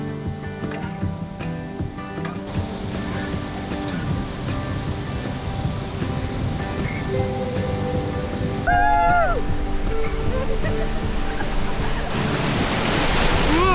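Sea surf washing in along a Scottish shore while people wade into cold water, a steady broadband wash with wind buffeting the microphone, growing louder toward the end.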